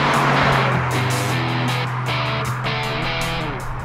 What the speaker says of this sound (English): We're driving this super rare Dick Johnson Grand Prix Turbo, this XE Falcon